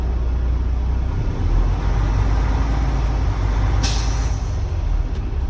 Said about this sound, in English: I'm gonna go ahead and give it a little gas